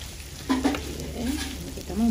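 Spice paste sautéed in a pan for Indonesian fish soup, giving a low steady sizzle with a few stirring scrapes, near and moderately loud, with faint tonal sounds over it.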